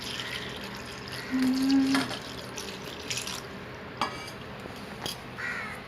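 Water is poured over dried fish (sukua) for washing, a soft, continuous splashing trickle. Crows caw nearby in the background.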